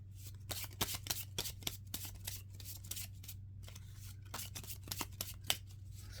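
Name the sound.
shuffling a deck of Zener ESP cards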